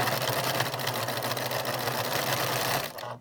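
Sewing machine stitching a quilt seam for a 9-patch block, a steady close mechanical whir with a low motor hum that runs unbroken for about three seconds and then stops abruptly.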